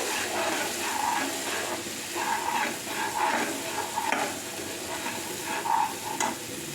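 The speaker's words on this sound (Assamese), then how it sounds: "এতিয়া মই ধুনীয়াকৈ লৰাই থাকিম" Spices fry in oil in a pan while being stirred, a steady close sizzle broken by repeated scraping strokes of the spoon, with no talking.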